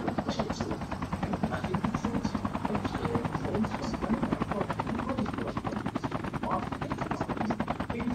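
A helicopter in the mobile shooter game Call of Duty Mobile, giving a steady, loud, rhythmic rotor chop throughout, with faint gunfire mixed in.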